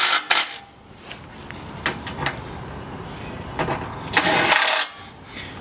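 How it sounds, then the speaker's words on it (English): Splash cover screws on a 2007 Chevy Tahoe are tightened with a hand tool, producing intermittent metallic clicks, clanks and scraping bursts close by with brief pauses between them. "now we just gotta tighten them up."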